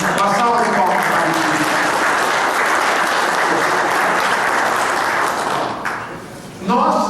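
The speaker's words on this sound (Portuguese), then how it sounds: "Uma salva de palmas para" Loud, sustained applause from an audience at a motivational talk, a thick continuous clatter of clapping that dips briefly before a final swell, with voices faintly mixed in.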